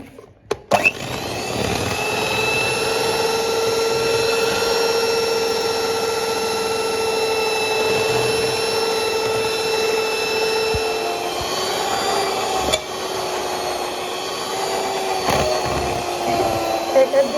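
An electric mixer whirs steadily and loudly through Christmas cake batter made from premix, a continuous motor drone with a slight pitch drop near the end.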